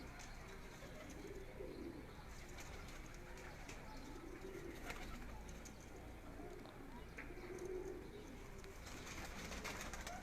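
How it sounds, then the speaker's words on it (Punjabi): A pet pigeon from a house in Lahore coos repeatedly in soft, rolling phrases, fairly close, over a steady outdoor background hum with faint chirps. "ਉਹਨਾਂ ਦੇ ਘਰ ਦਾ ਕਬੂਤਰ ਹੈ ਜੀ"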